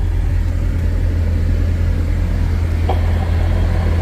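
A steady, loud low rumble of a passing car engine nearby at a Kawasaki Ridge demo, continuous and even throughout.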